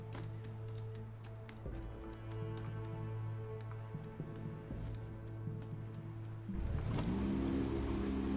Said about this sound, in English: Motor turned on.